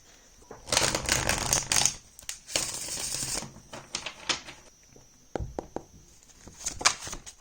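A deck of tarot cards is shuffled close up in two dense riffling bursts, followed by a scatter of light taps and card slaps at moderate volume with no talking.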